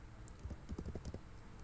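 Quiet computer keyboard typing in Firefox, a short run of soft clicking keystrokes, low and muffled, with no speech.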